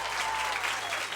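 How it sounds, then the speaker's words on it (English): Audience applause for Peaches at a live conversation event on the radio station 3RRR, a steady dense wash of clapping that stays even and loud through the short stretch. "Can I please get one big, massive round of applause for Peaches?"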